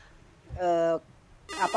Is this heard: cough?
no